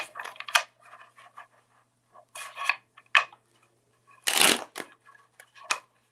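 Tarot cards are shuffled by hand in close, dry riffling and rubbing bursts, separated by short pauses, with one louder longer riffle near the end.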